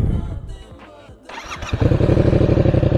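A motorcycle engine cranks over, catches, and rises into a loud, rumbling, steady idle close by.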